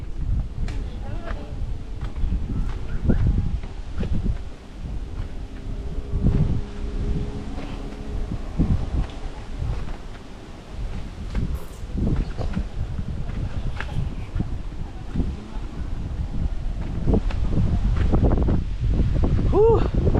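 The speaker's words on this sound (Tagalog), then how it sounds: "Buti na lang may hangin, no? Tanggal pagod." Continuous wind gusts rumble against the microphone for a long stretch, mixed with faint rustling and indistinct background activity.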